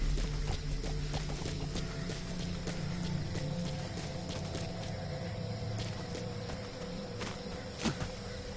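A horse's hooves clip-clop in a steady walking rhythm in the video game Metal Gear Solid V. The sound is soft and fairly close over constant game ambience, with a brief louder knock near the end.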